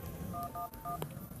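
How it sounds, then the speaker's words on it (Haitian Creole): Telephone keypad tones dial 111 on a mobile phone, three short, clean beeps in an even rhythm, close and fairly quiet, with a faint tap at the end. "Et puis on va composer 111."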